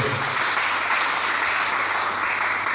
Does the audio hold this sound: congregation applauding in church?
yes